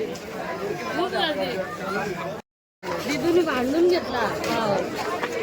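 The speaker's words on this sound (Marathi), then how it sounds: "गर्दी पण तेवढीच आहे" A crowded market in Mahabaleshwar fills the air with dense, continuous babble from many voices. The chatter is close and steady, with a brief silent gap partway through.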